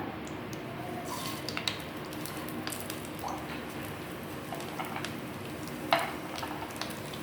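Cumin seeds sizzle and crackle in hot desi ghee in a kadhai, a steady soft frying hiss with small pops and one sharper crackle near the end, close and fairly quiet.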